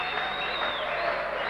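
A boxing crowd in a stadium hall during a Kessler versus Allen fight: steady roaring cheers and applause from a large audience fill the space, with a commentator's voice faintly mixed in.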